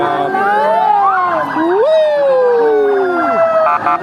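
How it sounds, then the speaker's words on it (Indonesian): Police sirens of a presidential convoy passing through Liwa, Lampung Barat, loud and close, several wailing and yelping tones overlapping and sweeping up and down continuously. "Sirine awal udah nih"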